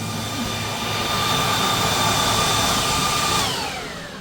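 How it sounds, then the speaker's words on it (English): Powerful cooling fan of an Avtron SLS-10 load bank blowing steadily with a loud, broad whoosh and a faint whine, then winding down in pitch and level over the final second. "It's a pretty powerful fan system here."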